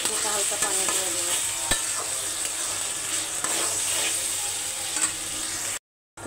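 Ginger and green chillies frying in a pan, a loud, close, continuous sizzle with brisk stirring scrapes and a sharp clink, cutting off abruptly near the end, no voices.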